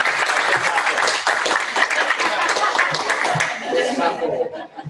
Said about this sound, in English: so applaud them for their investment in you guys